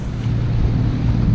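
Sailboat engine running at sea in the Mediterranean, a steady low rumbling drone mixed with wind and water noise, continuous and close.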